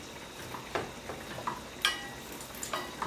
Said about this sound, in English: Now I put my sage in my butter.